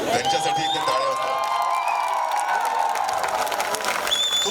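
An audience at a film trailer launch event breaks into loud clapping and cheering with scattered whoops, a dense continuous wash of crowd noise from start to finish.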